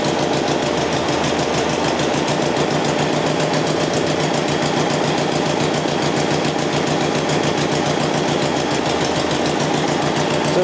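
An old Sporty engine runs with its ignition timing set well retarded, giving a loud, steady, rhythmic chugging drone that holds for the whole stretch with no voices.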